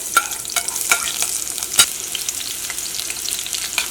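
Garlic and green chilies frying in hot coconut oil, giving a dense, close sizzle broken by frequent sharp crackles and pops, with a louder spatter burst partway through.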